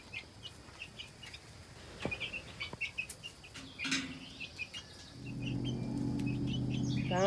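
Quiet pecking and soft chirpy clucks from a few chickens nearby, scattered taps, then a low steady rustling hum builds toward the end.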